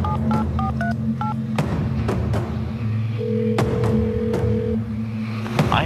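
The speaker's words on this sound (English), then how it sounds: "make his first phone call home" Touch-tone keypad beeps from a prison telephone at a state penitentiary: a quick series of short dialing tones, then a steady electronic tone, over a constant low hum and a few dull thumps.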